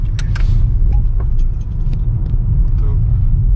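A Ford EcoSport, about a year old with 15,000 km on it, pulls uphill in third gear with a low, steady engine rumble heard from inside the cabin as a voice talks over it.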